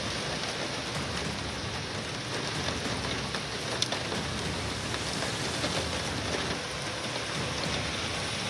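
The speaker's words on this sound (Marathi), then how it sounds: "दादर, कुर्ला, घाटकोपर या परिसरात अनेक भागांमध्ये जोरदार पाऊस होतोय।" Heavy rain pours over Mumbai, a dense, unbroken hiss of downpour at even loudness throughout, with no voices.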